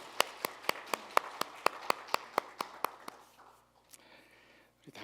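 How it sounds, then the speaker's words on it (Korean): Clapping in thanks during a Korean Sunday worship service: a dozen evenly spaced, sharp claps in a steady rhythm, then fading into quiet room tone with faint sounds near the end. "우리 하나님께 감사의 박수 올려드리겠습니다."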